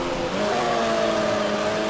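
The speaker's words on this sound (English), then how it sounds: "I hear my car revving low, I'm like, oh god, I need a downshift" A race car engine in Need for Speed: High Stakes drones at low revs, a continuous close buzzing tone that climbs slightly, steady and loud with no voices.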